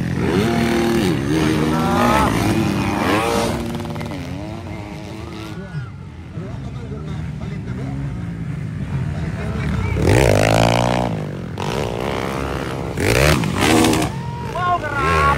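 Motocross motorcycles in the 450cc class racing, engines rising and falling in pitch as bikes pass near and far, with an excited commentator talking over them throughout.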